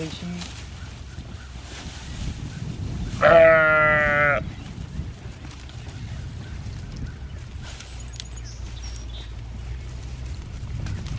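A ram among a flock of pasture sheep lets out one loud, quavering bleat lasting about a second, standing alone against quiet outdoor background noise with no talking during the call.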